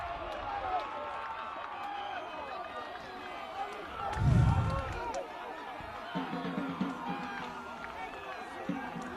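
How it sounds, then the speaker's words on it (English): Football crowd at Larissa Reserve in a Victorian league match, North Sunshine Eagles versus Manningham, roaring after a late equaliser, a sustained broad noise with a swelling surge midway, with commentary talk running over it. "Just listen to the crowd here"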